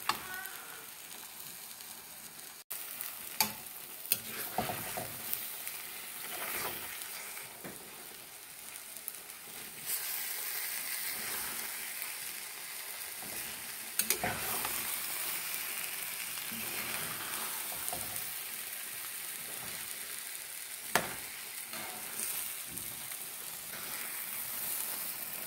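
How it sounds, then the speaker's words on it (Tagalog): Bitter melon and egg frying in an open pan, a continuous soft sizzle broken by repeated scraping stirs and small clacks of a spatula, fairly quiet and without talk. "Haluin na lang po natin. Hanggang sa maluto yung itlog niya."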